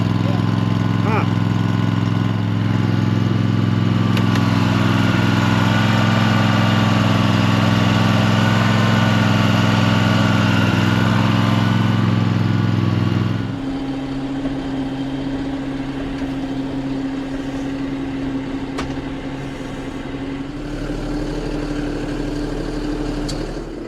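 A new John Deere 5067E tractor idles nearby, a steady low diesel rumble with a deep throbbing hum that drops to a softer idle halfway through, with a voice talking over it.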